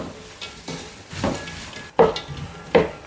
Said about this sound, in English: Stir. And allow to fry a little bit.